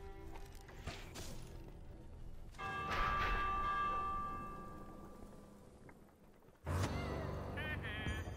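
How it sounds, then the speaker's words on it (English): Warning bell ringing in the Minecraft Dungeons video game: metallic, resonant tolling that swells and sustains over a noisy, busy game soundscape, with a sharp new burst of activity near the end. "Ring the warning bell."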